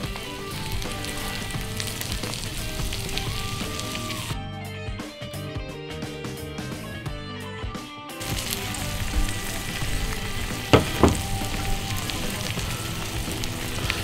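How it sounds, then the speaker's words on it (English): An egg fries in a hot pan for a bacon-and-egg breakfast, with steady close crackling sizzle throughout, a brief quieter stretch in the middle, and a couple of sharp pops near the end. "I'm going to flip the egg again."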